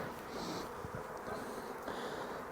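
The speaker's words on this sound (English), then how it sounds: "So look at the amount of bees on there and the amount of bees in there." Masses of honey bees buzz in a freshly opened hive during the first inspection of 2025, a close, continuous drone with faint rustling and brief higher whines rising over it.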